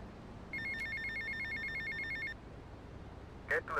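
A payphone rings in Grand Theft Auto Vice City, near the airport terminal, with a clear electronic trill of repeated rapid pulses lasting about two seconds, then a brief sharp burst after a pause.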